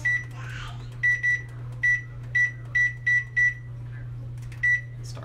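Microwave oven timer on a kitchen counter beeping as it is set for 30 minutes for a brined roast turkey: about nine short, clear electronic beeps in an irregular run, some paired, over a steady low hum.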